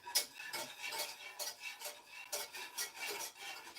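A whisk scrapes rhythmically through banana cream pudding mixture in a bowl, quick repeated strokes that are faint and close, with no talking.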